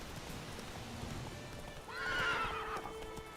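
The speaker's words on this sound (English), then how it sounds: "Okay, horse." A horse in The Witcher 3 video game gives a single whinny that rises and falls over about a second, over steady ambient game background noise.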